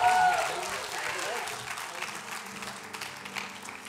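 Church congregation clapping after a closing prayer, a burst of applause that starts strong and gradually thins out, with speech mixed in toward the end.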